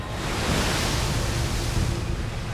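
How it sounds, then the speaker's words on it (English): Ocean waves strike the side of a fishing boat heading north into a northwest swell, a steady loud rush of water and wind-like wash that continues unbroken throughout. "We're going north, and the waves are coming from the northwest, coming from the side."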